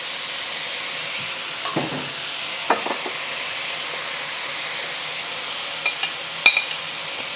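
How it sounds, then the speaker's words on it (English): Ginger and garlic sizzle in a little frying oil, a soft continuous crackle and hiss with a few sharper pops and scrapes of stirring, close but fairly quiet, with no talking. "I'm gonna add just a little bit of oil because I wanna get my ginger and garlic going in here"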